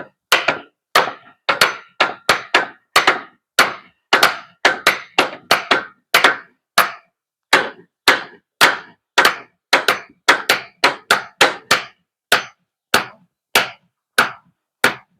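Nails being hammered into wood while building forms to pour a concrete walkway to a bathroom: a long run of sharp, close, loud strikes in uneven bursts, sometimes quick doubles, sometimes spaced, with no talking.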